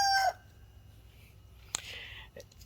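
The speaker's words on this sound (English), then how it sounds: "we got some pretty angry chickens that can't get in here and mess with us" A chicken gives a short, sharp call followed by brief clucks, fairly close, over a quiet background.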